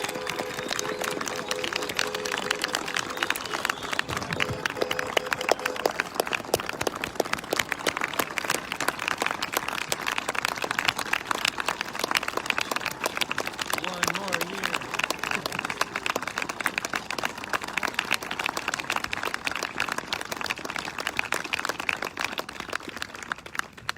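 Church congregation applauding steadily for departing staff, dense continuous clapping with some cheering, loud and sustained throughout.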